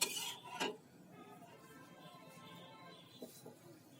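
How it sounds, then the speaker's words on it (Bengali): Rice being stirred in a pot while making date-palm jaggery payesh, with faint scraping and a couple of sharper clinks of a utensil against the pot, quiet and close. "চাল দিয়েছি আর এটাকে একটু নেড়ে দিচ্ছি"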